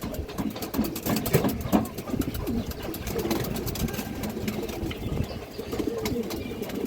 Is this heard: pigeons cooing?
yes